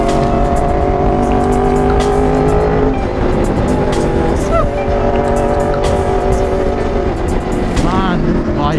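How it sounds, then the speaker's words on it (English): An Aprilia RSV4 sport motorcycle roars loudly under a rider through corners, its engine note climbing and falling through revs with sharp pops and shifting pitch sweeps, continuous and close. "Man, this bike is loud."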